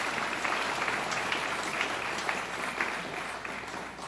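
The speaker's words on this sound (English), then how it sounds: "Give them a round of applause" Sustained audience applause at a governor's Long Island event on property taxes, honoring two guests, a fairly distant steady roar of clapping that holds through and fades slightly near the end.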